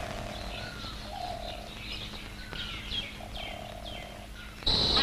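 A dove in Rajasthan gives soft, repeated cooing calls amid other birds chirping nearby, fairly faint and close, ending with a sudden burst of noise.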